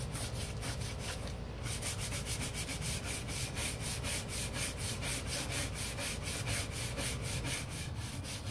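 Teak trim on a 1977 Boston Whaler 21 Outrage being rubbed down during restoration after cleaner soaks in: a steady, close, rhythmic back-and-forth scrubbing with regular strokes, continuous and alone.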